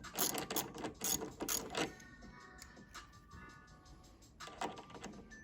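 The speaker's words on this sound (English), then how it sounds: "And then I'm gonna put my 8 mil, righty tighty, lefty loosey." A ratchet tightens an 8 mm nut on the engine of a Proboat Sonicwake 36-inch RC boat, giving a few close bursts of quick clicking separated by short pauses.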